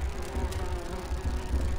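Bees buzz steadily in the video game Grim Fandango Remastered, a close, continuous droning hum with a slightly wavering pitch and no pauses.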